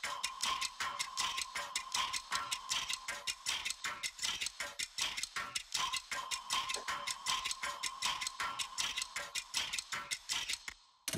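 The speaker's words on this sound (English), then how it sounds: "we have those clock sounds going" Steady, rapid clock-like ticking runs throughout as part of a musical track, with a sustained tonal hum beneath and a brief drop-out at the very end.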